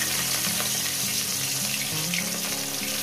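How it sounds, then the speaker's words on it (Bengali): Rohu fish pieces fry in hot oil, a steady close sizzle that runs unbroken, with a low bubbling, watery crackle underneath and no voices. "দিয়ে মাছগুলো এক এক করে ছেড়ে দেব।"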